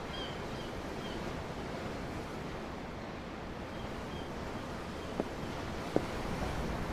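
Ocean waves in the video game Tales of Arise, heard as a steady, soft rushing surf with wind-like hiss, plus a couple of faint brief clicks near the end and no voices.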